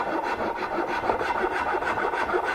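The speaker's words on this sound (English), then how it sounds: "little rasp" A small hand rasp files steadily at wood while a quilt rack's joints are fitted, giving a continuous dry scraping with quick back-and-forth strokes, close and fairly loud, with no talk.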